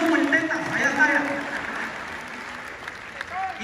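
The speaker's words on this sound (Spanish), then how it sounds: "también quiero que le demos un fuerte aplauso" Audience applause fills a live show in Mexicali, a steady wash of clapping that holds for several seconds, with voices calling out over it early on.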